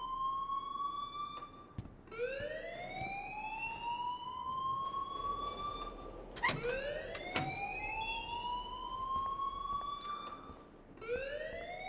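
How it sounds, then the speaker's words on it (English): Wailing electronic school alarm from the video game Life is Strange, a loud rising siren tone that repeats about every four seconds, with brief clicks and knocks between sweeps and no talking. "please turn off that alarm since that's your job"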